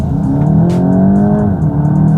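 A 2026 VW Golf 8.5 GTI in sport mode pulls hard under acceleration, its engine note rising steadily and filling the cabin, close and loud with no talking over it.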